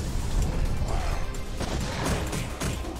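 Explosion-like placeholder thruster effect from the mech-building video game M.A.S.S Builder: a dense, continuous roaring burst of noise with rough crackling texture, loud and close, running steadily throughout.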